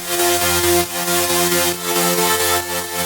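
Combined synth layers of a melodic dubstep tear-out drop, a thick, wide chordal wall with bright harmonics and low body, pulsing rhythmically at steady volume throughout, with no voices.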